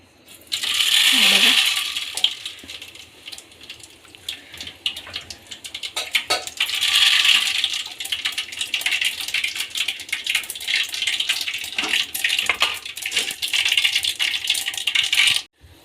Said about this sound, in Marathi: आता टाकते मोहरी. तेल तापलं.